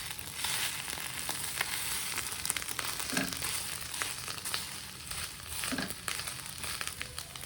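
A mixture of amla and dates is stirred in a hot pan, giving a soft continuous sizzle with scraping and crinkling textures, fairly faint and without voices.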